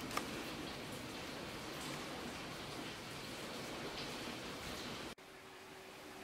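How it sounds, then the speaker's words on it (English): Heavy rain pours outside a house in a dense, steady wash of noise that holds evenly, then drops to a quieter level near the end. "Let's see if I can show you how hard it's raining."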